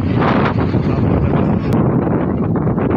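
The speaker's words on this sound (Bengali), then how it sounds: "আকাশে মেঘ ধরে বেশ ঝড়ো বাতাস বয়ে আসছে" Gusty pre-storm wind under a cloudy sky pounds the microphone in a continuous loud rumble, with rushing, flapping bursts and no voices.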